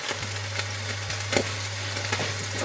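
A burger patty fries in a hot pan with a steady sizzle and sharp pops, close up, over a constant low hum.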